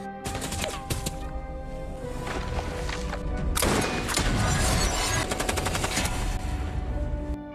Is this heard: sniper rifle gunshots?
yes